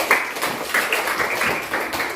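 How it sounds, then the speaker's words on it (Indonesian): A classroom of students claps for a classmate named Stephen after his teacher praises him, a short burst of close, sharp hand claps that runs unbroken for about two seconds. "Tepuk tangan dulu untuk Stephen."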